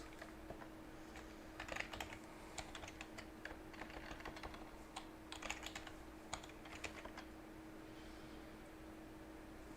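Rapid keystrokes on a computer keyboard entering a terminal install command on Ubuntu, irregular bursts of clicky taps over a steady electrical hum, fairly quiet and close, with no voices.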